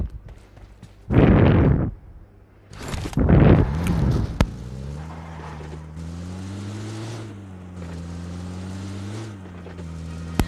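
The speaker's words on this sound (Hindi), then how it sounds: "फिर मेरे को एक UAZ मिलती है, एक जीप।" In PUBG Mobile, a UAZ jeep starts with two loud bursts of engine revving, then settles into a steady droning motor whose pitch rises and falls as it drives.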